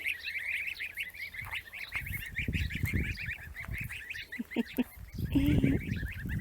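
A flock of tame goslings honking continuously nearby, overlapping nasal calls in a busy chorus with some low rustling and thumps underneath.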